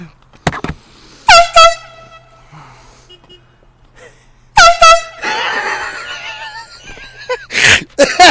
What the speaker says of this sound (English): We're gonna honk.